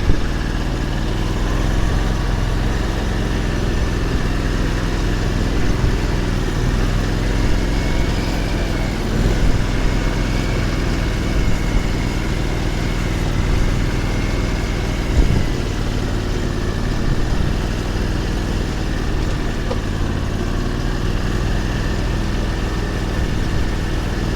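An Argo 8x8 amphibious vehicle crawling in low range across a semi-flooded island, its engine droning loud and steady up close with a constant mid-pitched hum for the whole stretch.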